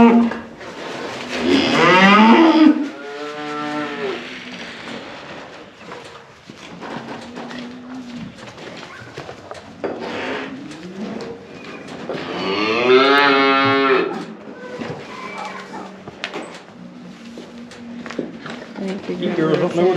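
Cattle moo loudly in a farmyard at feeding time after hay is stacked in the barn, two strong drawn-out calls near the start and middle, with quieter lowing, shuffling and a person talking in between.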